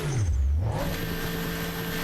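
A Bugatti's engine strains and revs while climbing a muddy slope in GTA 5, a steady loud drone that swoops low at first and then settles into a sustained higher whine.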